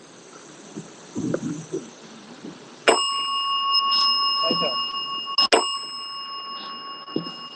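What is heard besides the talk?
bell ringing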